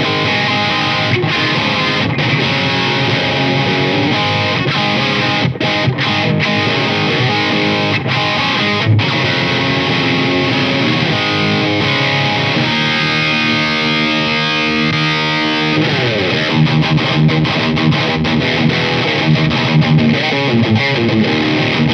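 Electric guitar played through an inexpensive Boss distortion pedal, a loud, continuous saturated tone with sustained chords and riffs running unbroken throughout, no voices.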